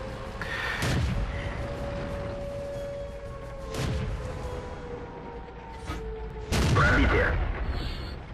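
Several heavy tank cannon blasts in the video game World of Tanks boom at irregular intervals over a steady hum, the last shot the loudest, each followed by a brief rumbling decay.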